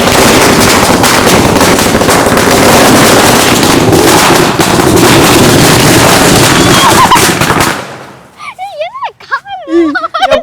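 Diwali firecrackers burst near a roadside in a dense, nonstop volley of loud crackling pops that lasts about eight seconds. Then it cuts off and people are heard talking and exclaiming.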